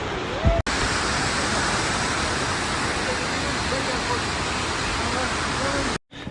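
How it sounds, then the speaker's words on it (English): A big waterfall in Java roars as a dense, steady wash of falling water, loud and unbroken, with a couple of brief voice fragments near the start and end. "Enjoy the waterfall that's in Java."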